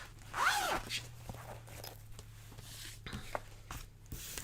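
A zipper on a light blue pack is pulled open in one quick, close rasp, followed by soft rustling and small handling sounds.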